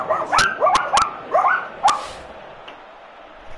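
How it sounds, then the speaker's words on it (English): Dogs barking close by, a burst of about six sharp, rising barks and yips in quick succession over roughly two seconds, then fading to quiet room tone. "Fucking dogs."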